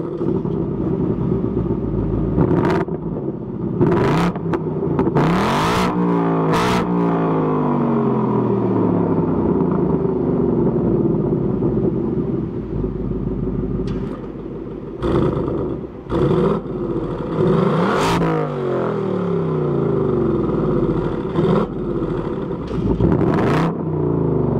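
A 2024 Ford Mustang GT V8 with adaptive exhaust revs hard and loud several times, sharp throttle blips rising and falling over a deep steady idle rumble, close by with no talking.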